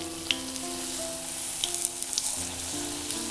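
Panikoorka leaf bajji fritters deep-fry in hot oil with a continuous bubbling sizzle, broken by a few light pops and crackles close by.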